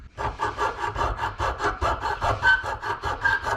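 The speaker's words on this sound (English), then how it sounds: "Now I'm gonna grind this with a grinder to make it look better." A hybrid racing fuel rail part being ground down, heard as a steady back-and-forth abrasive rasping in even strokes, close and loud, with no talk.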